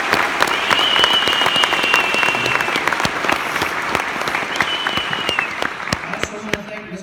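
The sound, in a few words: applause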